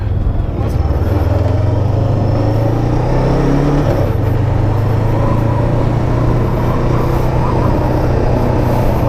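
A Bristol Veloce 500 motorcycle being ridden gives a steady, loud engine drone with a low rumble and broadband road and wind roar that holds constant throughout, with a brief shift in engine pitch near the middle.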